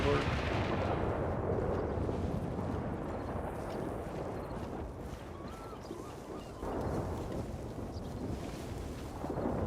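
Heavy shotgun blasts from a semi-auto or pump shotgun in a roleplay video game, loud and dense, running almost without pause across the clip with a brief dip near the middle.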